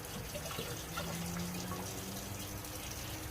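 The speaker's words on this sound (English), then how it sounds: "I still have the water running." Tap water runs in a steady, low hiss during homebrewing with a Mr. Beer kit, a faint continuous trickle filling the fermenter with no talk over it.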